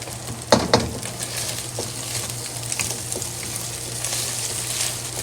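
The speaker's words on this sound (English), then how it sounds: "Just keep frying." Egg fried rice sizzling and frying in a pot, a steady close crackle with a sharper scrape or stir near the start and small spatters throughout, with no voices.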